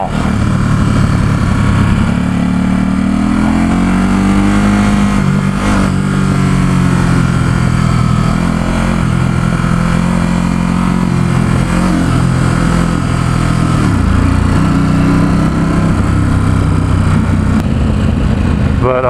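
A Ducati SuperSport S engine pulling steadily on an open road near San Francisco, a loud, close, continuous drone whose pitch sweeps up and down through shifts, with wind noise throughout.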